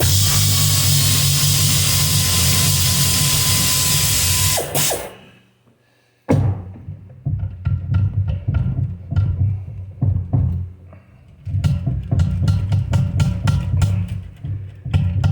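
A ratchet wrench works bolts loose on a 727 TorqueFlite automatic transmission from a 1965 Plymouth Fury III. Loud, close, rapid clicking comes in bursts, broken by a brief near-silent pause and a sharp clank.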